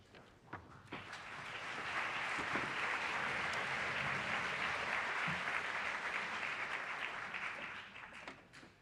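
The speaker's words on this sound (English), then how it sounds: "How about one more round of applause?" A school graduation audience breaks into applause that swells to a steady, dense clapping from many hands, heard from some distance, then tapers off near the end.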